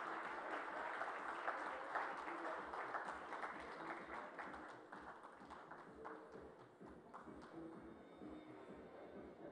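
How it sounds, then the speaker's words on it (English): Audience applause at an interior and exterior design awards ceremony, a dense, steady clapping from a large room that stays strong for several seconds and then gradually thins and fades toward the end. "can we have an energetic round of applause"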